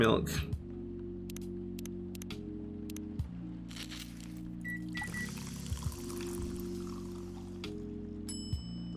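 Green tea milk is poured for a latte in a coffee-shop game, a soft hiss of liquid lasting a few seconds beneath looping background music.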